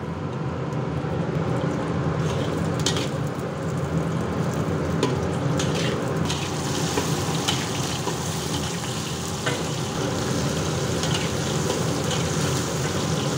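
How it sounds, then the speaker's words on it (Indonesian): Garlic and shallots sautéing in a little oil, a steady close sizzle with occasional stirring scrapes throughout and no talking. "kita tumis bawang putih dan bawang merah terlebih dahulu sampai harum dengan sedikit minyak"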